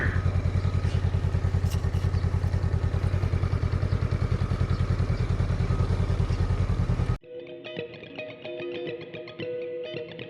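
A Honda Rebel 500 (CMX500) motorcycle engine runs steadily and loudly while riding, with a constant throbbing drone; partway through the sound abruptly drops to a thinner, quieter engine tone.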